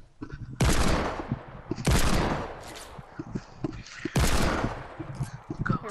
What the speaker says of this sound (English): I'm giving cover fire.